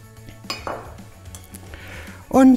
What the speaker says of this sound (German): Und dann verrühre ich die schon mal.